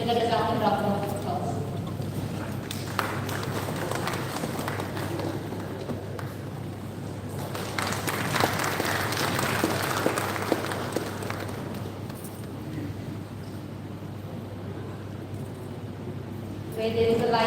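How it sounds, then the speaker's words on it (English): Audience applause at a lamp lighting ceremony during a Raj Bhavan lecture event, a steady wash of clapping filling a hall with a constant low hum underneath, swelling in the middle before easing off. "Please join them in this spirit with a resounding round of applause."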